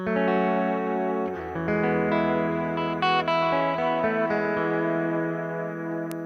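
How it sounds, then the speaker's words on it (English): Electric guitar playing sustained chords with a clean, bright tone, ringing steadily with a few strummed changes and no voices. "we'll put the equalizer on just to help it give it that clean up sound"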